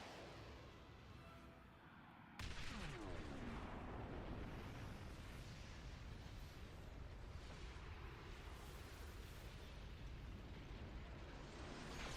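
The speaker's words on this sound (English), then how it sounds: "There goes Aeon. Pretty impressive fireworks" Huge explosion of Aeon in Xenoblade Chronicles 2: a sudden loud blast after a quieter stretch, followed by a sustained roaring rumble of fire and debris that carries on for about ten seconds.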